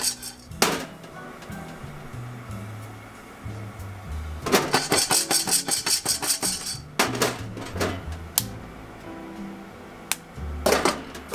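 Guatemalan coffee beans roasting in a pan reach second crack, giving soft scattered pops and crackles over a low rattle of beans being shaken, with a brisk burst of tapping rattles midway; no talking.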